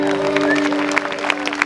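An audience claps at a tribute concert, a dense patter of applause behind someone talking over it, with a few sharper individual claps near the end.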